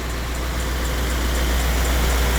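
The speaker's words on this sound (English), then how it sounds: "There's your exhaust," A 2021 Chevrolet Silverado 6500HD heavy truck engine idles at a high, steady rumble with a strong low-pitched drone and exhaust noise, close and continuous.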